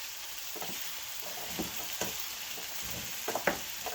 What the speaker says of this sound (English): then we're going to give that a good stir